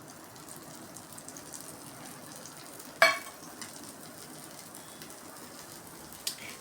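Dosa batter frying on a hot pan, a faint, even crackling sizzle throughout with one sharp click near the middle and another near the end.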